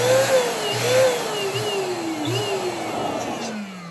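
A balloon is inflated for a Valentine's Day balloon column, with a loud, continuous pump-like whine whose pitch drifts and wavers throughout.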